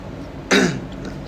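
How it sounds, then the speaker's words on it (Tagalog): A single short, throaty cough, close and fairly loud, rising briefly out of a steady background hum. "Ang hirap pala, umubo na nagpipigil"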